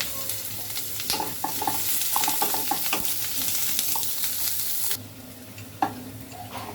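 Onion fries in oil with cumin seeds in a kadai, a dense close sizzle with stirring clatter that suddenly quietens to a softer simmer partway through.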